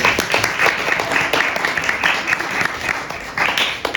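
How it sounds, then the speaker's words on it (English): An audience at a church guitar-duo evening applauds the bartender with a steady, moderately loud round of clapping, sustained evenly with no speech over it. "A round of applause for our bartender"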